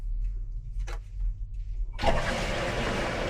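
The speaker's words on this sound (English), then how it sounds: "Oh, the sump pump works." A boat's sump pump starts up partway through, switching from low hum and faint bumps to a steady, broadband rush of pumped water that runs loud and continuous to the end.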